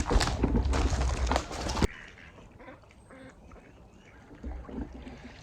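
A loud burst of noisy activity gives way to quieter quacking from ducks nearby, irregular calls over a soft outdoor background.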